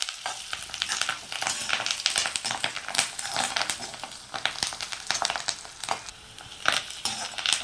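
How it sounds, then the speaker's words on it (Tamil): Onions and curry leaves sauté in a pan for a prawn thokku, giving a steady sizzle with a busy run of scraping and stirring clicks throughout, close and fairly loud, with no talking. "கருவேப்பிலை போட்டு நல்லா வதக்கணும்."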